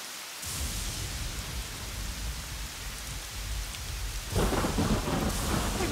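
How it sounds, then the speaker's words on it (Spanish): Heavy rain pours in a cartoon, a dense, loud hiss of falling water with a deep roll of thunder that swells sharply near the end, with no voices. "Parece que tardará un rato en dejar de llover."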